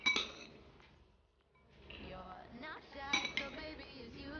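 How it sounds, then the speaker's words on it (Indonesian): Jajangmyeon noodles stirred in a large bowl give close clinks and scrapes of utensils against the dish, scattered through the clip with a brief lull in the middle. "Kalau mau makan jajangmyeon itu harus diaduk dulu."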